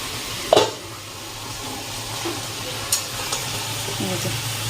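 Food sautés in a pan indoors, a continuous moderate sizzle close by, with a sharp clank near the start and a few light scrapes and taps from stirring, and no clear talk.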